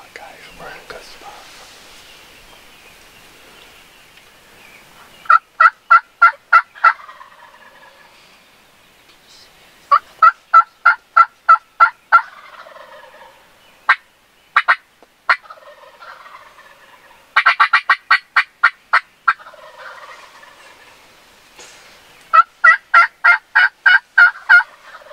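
Wild turkeys gobble from directly above a hunting blind at sunrise in Pennsylvania spring woods, loud rapid rattling bursts repeating every few seconds in an otherwise quiet dawn, with hunters whispering faintly in between.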